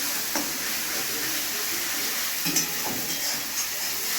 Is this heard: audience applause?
no